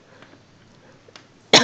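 A single sharp cough bursts out loud and close at the very end, after near silence.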